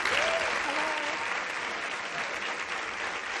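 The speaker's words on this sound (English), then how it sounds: "Everybody's out here applauding" A studio audience applauds on a dating show, a thick even wash of clapping held at steady loudness from start to finish, with faint cheering voices mixed in.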